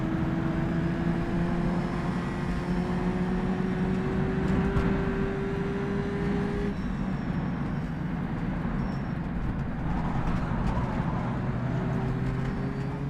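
A small historic race car with a 1.1 liter engine in rFactor 2 drones steadily under heavy wind rush, its engine tone rising slowly through long pulls with a gear change midway, continuous and loud throughout.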